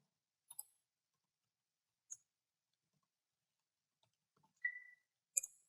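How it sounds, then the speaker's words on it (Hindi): Keys on a computer keyboard are pressed while typing in a word-processing program, sounding as a few sparse, crisp clicks and ticks, faint and close, separated by silence. "फिर मैं एंटर प्रेस कर देता हूँ"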